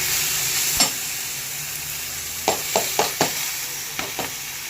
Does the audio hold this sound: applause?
no